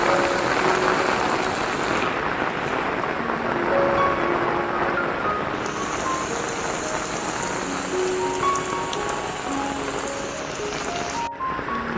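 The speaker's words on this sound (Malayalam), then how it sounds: "മഴ ഇങ്ങനെ തകർത്ത് പെയ്യുവാണ്. ഒപ്പം നല്ല കാറ്റും കൂടെ അടിക്കുന്നുണ്ട്." Heavy rain pours with strong wind along the Marine Drive waterfront walkway in Kochi, a loud, steady dense hiss of drops on surfaces lasting throughout with no speech.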